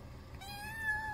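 A kitten under a container in the countryside gives a single faint, drawn-out meow that rises slightly and holds, close but quiet against low background noise.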